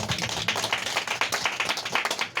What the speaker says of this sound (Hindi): जोरदार ताली बजाकर परमेश्वर महिमा करें